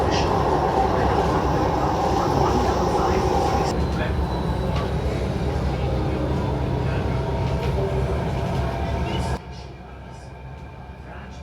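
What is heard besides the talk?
Delhi Metro Green Line train running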